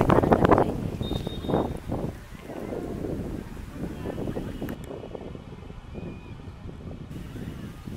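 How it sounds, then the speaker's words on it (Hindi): Wind gusts outdoors at the Chausath Yogini Temple in Khajuraho, buffeting the microphone in a continuous rough rumble that is strongest at the start. "इधर काफ़ी अच्छी हवा चल रही है"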